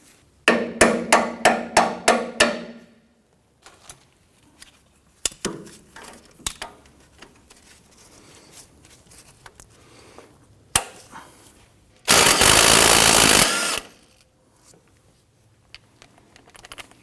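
An impact gun works on a sway bar link nut on a 2006-2010 Hummer H3. A run of sharp rhythmic hammering comes first, then scattered knocks and clinks, then one loud continuous burst of rattling before it goes quiet.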